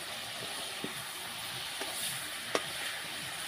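Prawns fry in a pan with a faint, steady sizzling hiss, broken by a few soft taps of stirring, heard quietly and close with no talking.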